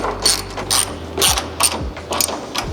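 Hand tools ratcheting as bolts are tightened on a radiator brace for a 2022+ Subaru VB WRX: several short bursts of clicking ratchet strokes, close and clear, with no talk.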